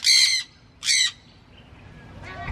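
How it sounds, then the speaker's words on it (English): A kookaburra gives two harsh, loud squawking bursts close by, then a fainter rising call begins as the clip ends. "Mr. Kookaburra, you've been making all kinds of noise while I've been here"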